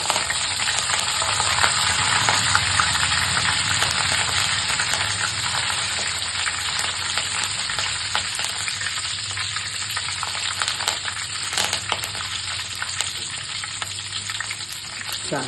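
Curry leaves hit hot oil for a homemade mixture snack, producing a loud, continuous sizzle and crackle with scattered pops that stays steady throughout, no voices.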